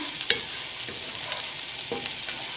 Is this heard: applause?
no